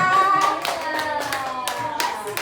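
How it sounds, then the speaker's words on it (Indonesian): A classroom of students claps their hands during a religious studies teaching practice lesson, a dense, steady run of sharp slaps lasting a couple of seconds, with faint voices mixed in. "tepuk tangan kembali lah"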